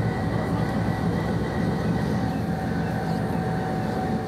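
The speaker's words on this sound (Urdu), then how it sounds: "پشاور کینٹ اسٹیشن سے امیر مقام اور ریلوے حکام نے ٹرین کو رخصت کیا" Jaffar Express passenger train departing Peshawar Cantt station, a steady loud rumble of rolling carriages and engine drone continuing evenly throughout with no voices.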